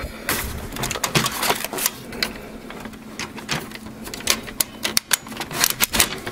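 A cardboard insert is worked out of the paper tray of an HP Officejet Pro X551dw printer, giving a string of sharp plastic clicks, scrapes and knocks at close range, with no one speaking.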